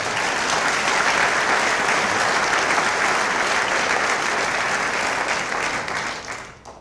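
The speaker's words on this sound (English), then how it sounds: "a round of applause should go to our enrollment management team" A large audience applauds steadily throughout the inaugural address of a university chancellor at SIUE, a dense, sustained wash of clapping that fades away at the very end.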